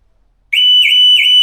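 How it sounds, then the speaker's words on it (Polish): An Audi Q6 e-tron car alarm, a recurring fault, suddenly starts after silence: a loud, steady high pitched electronic warble repeating in even pulses, close and piercing. "I aktywował się alarm"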